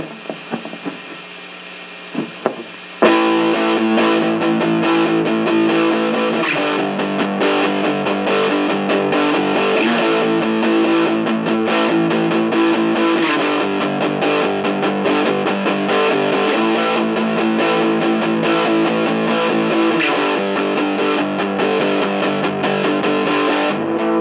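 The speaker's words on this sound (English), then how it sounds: "I got some distortion turned on the Orange 55RT, a little bit of reverb, and I'm using my Epiphone SG Standard for this" An Epiphone SG Standard electric guitar plays through an Orange 55RT amp with its built-in distortion and a little reverb. After a few quiet plucked notes it bursts into loud, sustained, thick chords that continue steadily.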